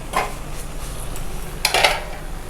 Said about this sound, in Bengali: নিয়ে এবার এটাকে আমি ঢাকা দেবো।